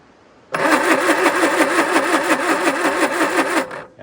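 A car engine that had stood unused for 50 years cranks over for about three seconds, the starter churning in a quick, even rhythm, close and loud, then cutting off without the engine catching.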